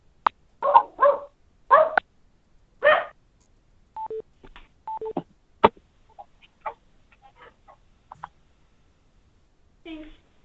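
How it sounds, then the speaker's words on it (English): Dog barking in the background of a conference call, a series of sharp, close yaps in quick bursts early on, then sparser, fainter yips and a few short tonal beeps later. "You happen to have a puppy or a larger dog barking in the background?"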